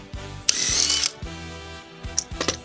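An impact rattle gun removing wheel nuts from a Range Rover L405, short rattling bursts with one longer whirring run, loud and close with no talk.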